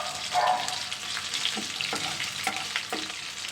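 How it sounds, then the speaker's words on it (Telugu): Onions and green chillies fry in ghee for upma, giving a close, steady sizzle with a few stirring scrapes throughout and no voice. "ఇవి కొంచెం వేగిన తర్వాత ఒక సైడ్కి జీలకర్ర మరొక సైడ్కి అయితే ఆవాలు కూడా వేసుకుని వాటిని కూడా నెయ్యిలో కాసేపు అయితే వేగనిచ్చానండి"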